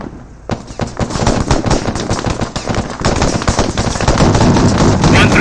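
Heavy automatic gunfire in ArmA 3, dense rapid bursts of shots at close range, loud and continuous after a brief quiet start.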